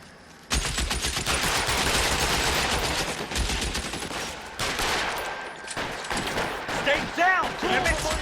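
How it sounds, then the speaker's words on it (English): Gunfire in the crime video game LA Noire, including a BAR automatic rifle, crackles in dense sustained bursts and rapid volleys for several seconds, loud and continuous with a voice at times underneath. "is the police so corrupt that they're going to ignore all these gunshots?"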